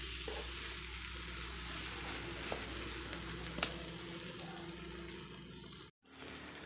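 Potatoes frying in a pan give off a continuous, even sizzle, with a few faint scrapes and taps from stirring, before the sound cuts off abruptly near the end.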